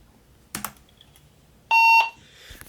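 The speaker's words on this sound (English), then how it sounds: "The radio beeped, recognizing it's taking data." Motorola XTS handheld radio gives a single loud electronic beep while taking programming data, preceded by a couple of soft clicks, in a quiet room.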